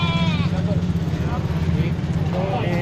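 Goat bleating at a busy Lahore livestock market, a few wavering bleats early and late over constant crowd chatter and low engine rumble from passing vehicles.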